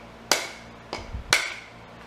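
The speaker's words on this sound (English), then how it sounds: "I'm going to try to knock this off with a hammer." A hammer knocks dried sanding sealer off a manzanita burl, giving three sharp, close wooden raps spaced irregularly, with quiet room noise between them.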